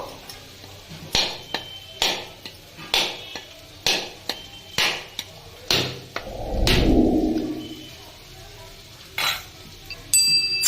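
A peeled, washed coconut struck repeatedly to crack it open, sharp hard knocks at a steady pace of about one per second, followed by a brief rushing splash of coconut water and a few last taps.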